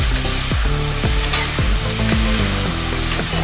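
Paneer and vegetables sizzling loudly in a pan over a high flame for fried rice, with repeated scraping strokes of a spatula stirring through the steady frying hiss.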